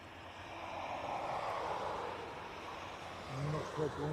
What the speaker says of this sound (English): Next to depart, we have a Ryanair heading off to Kerry.